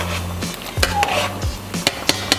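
Swiss chard with onions and garlic cooking in a pan, with a steady sizzle and a few sharp clinks of utensils against the pan, close and fairly loud, with no talking.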